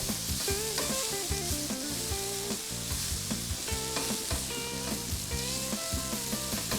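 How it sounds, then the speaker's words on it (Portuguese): Onion sautéing in a pan with bay leaf for a fish recipe: a steady, close sizzle that holds throughout, laid under background music with no talking. "Saltear bem essa cebola."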